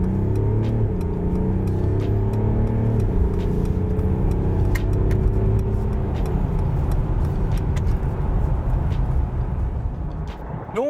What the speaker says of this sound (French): Allez, on va faire une petite accélération.